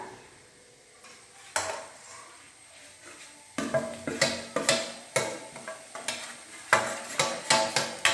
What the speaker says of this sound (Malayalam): ഈ വെന്ത ബീട്രൂട്ടിലേക്ക് മിക്സ് ചെയ്ത് വച്ചിരുന്ന തേങ്ങാക്കൂട്ട് ഇടാം.